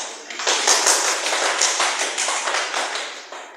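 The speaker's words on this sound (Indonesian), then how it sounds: "tepuk tangan untuk Karin." A small group of people clap for a student after a classroom presentation, a dense patter of hands lasting a few seconds with no talking over it.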